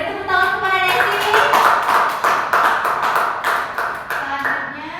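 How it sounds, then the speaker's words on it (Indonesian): Classroom applause for a student during an Indonesian reading lesson, a steady burst of close clapping from many hands lasting throughout, with a few voices mixed in. "Beri tepuk tangan kepada Desi."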